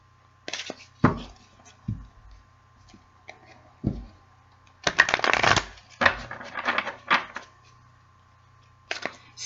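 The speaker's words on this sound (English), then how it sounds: "as I'm shuffling here" A tarot deck is shuffled in close, quiet bursts of crisp riffling card flutters and soft taps, separated by short pauses with a faint steady hum underneath.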